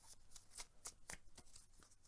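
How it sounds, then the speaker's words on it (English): A deck of cards from a solo tabletop board game session is riffled and shuffled in several quick, crisp bursts of flicking paper, close up and fairly quiet with no talking. "they're getting shuffled a bit now"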